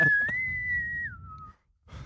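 A person whistles a short tune, one long sustained note that slides down to a lower held tone, then stops.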